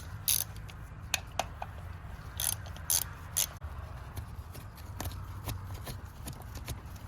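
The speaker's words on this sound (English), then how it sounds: "We're going to take those two bolts out real quick." A ratchet clicks in short bursts while two 8mm bolts come out of a neutral safety switch, the metallic ticking close and fairly quiet over a low background hum.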